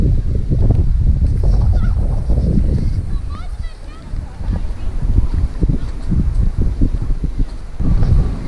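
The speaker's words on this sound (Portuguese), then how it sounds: "Uma névoa, né? Um vento frio." Cold wind gusts across the microphone in steady, loud roaring bursts on a misty coastal lookout above Praia Grande beach, where a river meets the sea; a voice speaks briefly at times.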